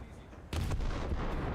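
A tank gun fires in the video game War Thunder, a sudden loud blast followed by a rumbling boom and crackling decay, rising abruptly out of quiet.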